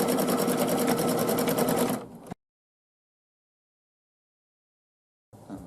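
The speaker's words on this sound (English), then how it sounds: "go ahead and let the rest of the design sew out" Embroidery sewing machine stitching out a quilt block design, a loud, steady rapid needle rhythm for about two seconds before stopping abruptly, then silence, with a brief restart of faint mechanical noise near the end.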